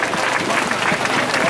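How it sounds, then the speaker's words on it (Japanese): A crowd at an outdoor street demonstration and rally claps in a dense, continuous burst of applause, loud and close throughout. "大きな拍手をお願いします"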